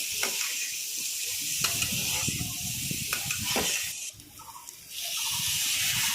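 A potato and spice mixture fries in a pan while being stirred, giving a steady close sizzle with scraping stirs, briefly dipping quieter before the hiss swells back.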